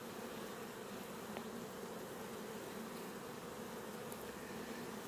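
Honeybees buzz around a newly moved hive, a dense, continuous swarm drone at steady volume with no pauses.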